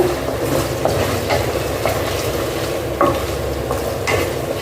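Gooseberry pickle mixture with dried red chillies sautéed on a low flame, a steady soft sizzle with a spoon stirring and scraping the pan at intervals.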